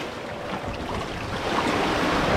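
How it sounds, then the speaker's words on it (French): Ocean waves wash and surge around a sailing boat on a passage near the Canaries. The sea makes a steady broadband hiss, with wind mixed into the rush of water. "Il y a des belles vagues."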